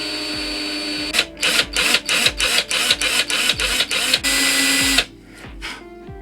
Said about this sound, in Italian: andando piano piano andiamo a forare